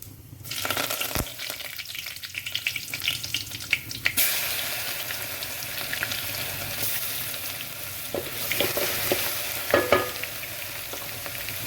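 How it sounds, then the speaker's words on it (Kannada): Spices for a tempering sizzle and crackle in hot oil for a coastal-style Malabar spinach sambar, a loud steady frying hiss that swells and crackles as ingredients go in, with occasional clinks of utensils. "ಬನ್ನಿ ಈಗ ಒಗ್ಗರಣೆ ಕೊಡೋಣ"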